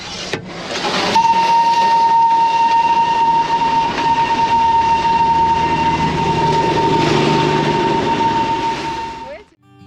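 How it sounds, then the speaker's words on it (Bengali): The historic Darjeeling toy train, over 150 years old, in Darjeeling town sounds one long steady whistle lasting most of the moment, loud and near, over rumbling rail noise. "দেখতে পেয়ে গেছিলাম দেড়শো বছরেরও পুরনো সেই ঐতিহাসিক টয় ট্রেন"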